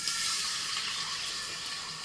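Water pours steadily into a pressure cooker holding mutton, a soft, even hiss of splashing liquid that lasts about two seconds with no talk.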